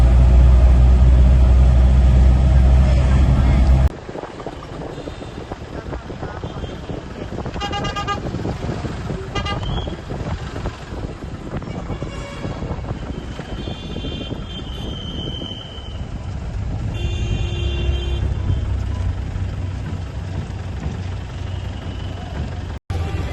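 A car arrives and drives off, its engine rumbling low and steady. Several horn toots sound early on, then the drone continues with a brief swell toward the end.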